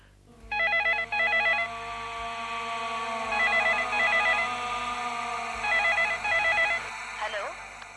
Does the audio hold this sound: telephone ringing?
yes